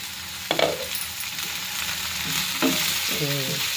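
Vegetables for veg pulao frying in a kadai, a steady sizzle under occasional scrapes and clinks of a spatula stirring against the metal pan.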